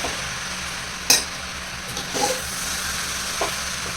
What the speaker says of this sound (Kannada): ಅದನ್ನು ನಾನು ಚೆನ್ನಾಗಿ ಮಿಕ್ಸ್ ಕೊಟ್ಟು ಒಂದು ತಟ್ಟೆನ ಮುಗಿಸ್ತಾ ಇದ್ದೀನಿ